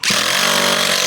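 Power drill driving a screw into a steel roof panel near the drip cap, a loud continuous whirring drive lasting about a second, close and alone.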